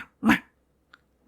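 A dog gives one loud, close bark, followed by a tiny faint yelp and the start of another bark, with silence in between.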